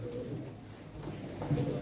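Soft, low pigeon cooing murmurs steadily, with a slightly louder coo rising near the end amid faint background noise.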